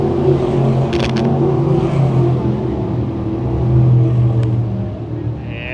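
Race cars circling the Can-Am Speedway track during a heat race, a loud continuous engine roar with droning, revving tones swelling and fading as the pack passes, close and without speech.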